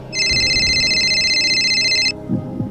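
A telephone rings loudly with one continuous electronic trill lasting about two seconds, then cuts off, followed by faint background sound.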